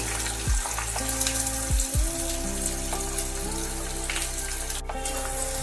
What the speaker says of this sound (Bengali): এগুলো আমি তেলের মধ্যে দিয়ে বেরেস্তা করে নেবো দিয়ে দিচ্ছি তেলের মধ্যে